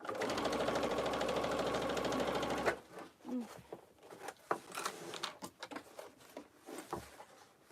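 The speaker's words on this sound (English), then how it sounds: "I'm not sewing through a pocket as well as the front and the bottom" A sewing machine runs steadily for close to three seconds, stitching through the layers of a tote bag, then stops and leaves quieter fabric handling and scattered small clicks.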